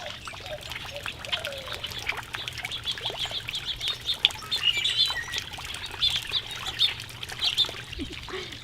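Many birds chirping and calling at feeders in a lake campground, quick bright tweets layered over a trickle of water and a constant outdoor hum.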